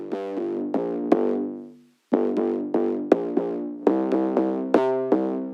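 Gritty, heavily distorted synth bass notes, hard-clipped with high drive, pluck in a fast rhythmic pattern with buzzy, saturated harmonics, pausing briefly before the riff resumes.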